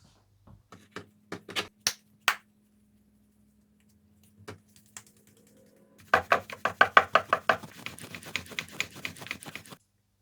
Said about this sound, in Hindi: तो सबसे पहले मैं पापड़ी के डो को बेल लूंगी।